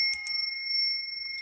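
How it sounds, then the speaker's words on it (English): A small bell rung during a tarot card reading gives two quick bright strikes, then a clear, steady ring that hangs on without fading. "I'm going to ring the bell"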